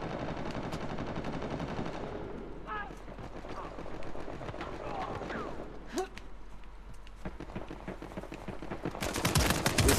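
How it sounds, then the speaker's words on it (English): Sniper rifle shots ring out during an Uncharted The Lost Legacy multiplayer firefight, sharp repeated cracks over a dense bed of gunfire and game noise, with someone talking through it. "They keep on using the sniper rifles."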